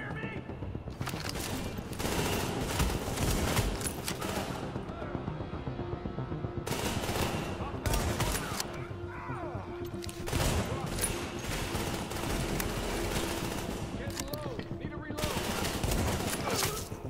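Dense gunfire rattles through a fight in Tom Clancy's The Division, with sustained automatic bursts and brief gaps, loud and continuous, while someone talks excitedly over the shooting.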